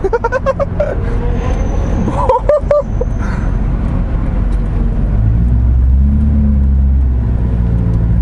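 A Corvette C6 Grand Sport rumbles in traffic, its engine and exhaust swelling into a louder, deeper roar toward the end, with a voice and laughter over it early on.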